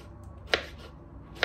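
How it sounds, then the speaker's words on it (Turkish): Knife chopping tomatoes, peppers and chicken on a cutting board: two sharp, isolated chops about a second apart, moderately close, over a low steady background hum with no talking. "Domates doğruyorum. Biber doğradım. Tavukları doğradım."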